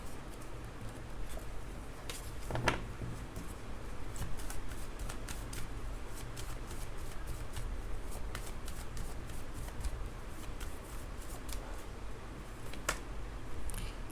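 Tarot cards shuffled by hand up close, with soft repeated riffling and slapping card sounds in quick bursts, fairly quiet and with no talking over them.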